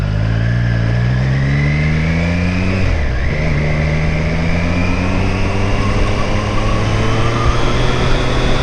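A 2025 Triumph Street Triple 765 R motorcycle is ridden with a loud, close engine drone climbing through the revs, briefly dipping at a gear change and then pulling steadily upward again.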